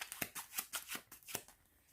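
A deck of playing cards is riffled in quick, crisp bursts, about eight rapid rustling flicks close to the microphone over two seconds, fading out at the end with no voices.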